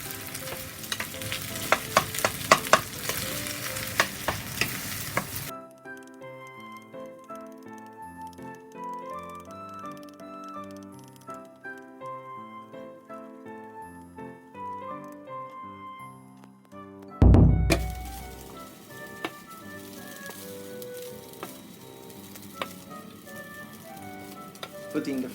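Rice and eggs are stir-fried quickly in a pan for Japanese ankake fried rice, giving a close, busy sizzle with scraping strokes. The frying stops for a long melodic musical stretch, then returns loudly after a sudden thump.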